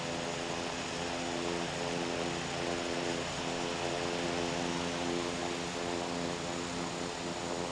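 An aircraft takes off from runway 26 right at Ontario: a loud, steady engine roar with a droning tonal hum that holds unbroken from start to finish, with no voices.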